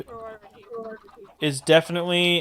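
Video game chickens clucking, a few short, close clucks and squawks with a brief pause between them, heard alone without talk.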